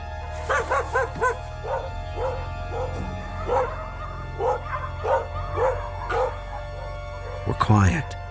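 Dogs bark and yip repeatedly at night in a town on alert, a string of short, fairly close calls, with one louder burst near the end.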